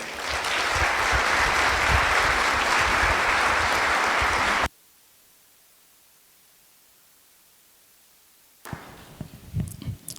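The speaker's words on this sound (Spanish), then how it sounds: "Le recibimos con un gran aplauso." Audience applauding in a parish church during an evening gathering in León, Guanajuato: a dense, loud burst of clapping for about four and a half seconds, then abrupt silence, then faint shuffling and a few stray sounds.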